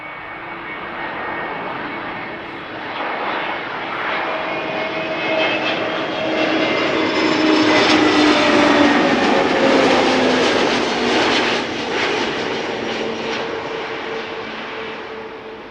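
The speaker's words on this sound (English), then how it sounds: "EasyJet A320neo arriving from Milan up next." An EasyJet Airbus A320neo arriving from Milan at Amsterdam Schiphol roars loudly overhead, its engine drone building to a peak and then easing as it passes close by.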